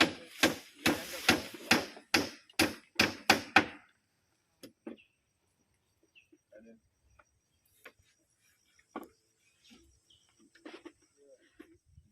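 About ten sharp hammer blows drive nails into wood during construction of a wooden hide in a forest, ringing loud and close in a steady rhythm. Sparse faint knocks and rustles follow in the quiet woodland.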